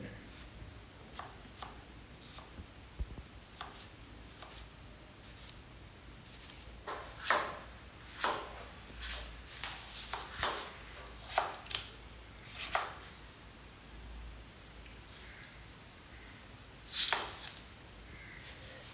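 Knife chopping tomatoes and other vegetables on a board for an egg curry, irregular crisp chops that start sparse and quiet, then come in a denser run of sharper cuts with pauses, no talking.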